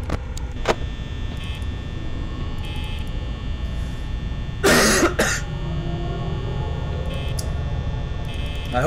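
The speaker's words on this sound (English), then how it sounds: "I hope that cough's not annoying for you guys" A person coughs in a few harsh, close bursts about midway through, with a sharper click earlier, all over a steady electronic hum from a horror game.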